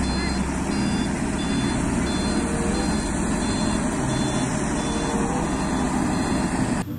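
Toy box truck sounding rapid, regular reversing beeps over a continuous loud engine-like drone, steady throughout.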